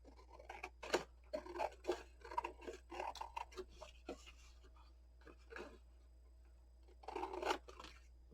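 Scissors snipping excess paper while making a handmade brag book, a series of close, short crisp cuts in quick bursts with a pause before a final cluster.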